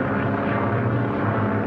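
Steady drone of an ambulance plane's engine in flight in a 1941 film, a continuous loud low hum with no break or speech.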